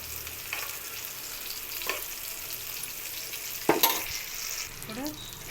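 Fish fries in oil in a pan, a steady soft sizzle with a few sharper crackles and scraping touches, close and fairly quiet with no talking.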